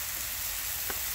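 Chicken and cream of mushroom soup sizzle on a Blackstone griddle with a steady, close, hissing crackle that barely changes over a brief moment.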